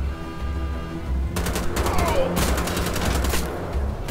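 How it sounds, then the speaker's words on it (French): Gatling gun in Wolfenstein: The Old Blood unloads in two loud sustained bursts of rapid automatic fire, the second running to the end, over a low ambient game drone. "il y a la Gatling là-haut"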